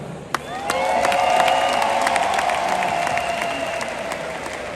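An audience at a Rwandan traditional dance performance answers with ululation and a dense wash of applause, the high trilling cries rising above the clapping after one sharp opening clap.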